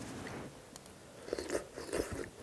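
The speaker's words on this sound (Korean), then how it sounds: "또 제가 무국을 먹어보겠습니다" Someone eating Korean radish soup, with soft close-up chewing and slurping bites clustering in the second half, quiet with no talking.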